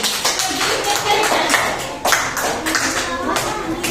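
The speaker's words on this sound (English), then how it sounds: "Clap for Amrikesh." Schoolchildren in a class clap for a classmate with bursts of sharp, fairly close hand claps in uneven clusters, while a voice speaks over the clapping.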